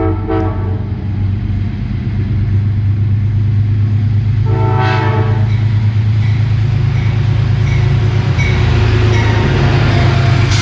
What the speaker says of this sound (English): And here comes Amtrak going south.